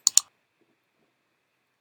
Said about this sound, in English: Do that with my keyboard shortcut.